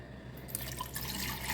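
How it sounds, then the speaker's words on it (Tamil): Water is poured over soaking tamarind for a village-style dried-fish curry, a faint, soft trickling and splashing that grows slightly fuller after the first half second. "இப்போ தண்ணி ஊற்றிடலாம் கொஞ்சம்"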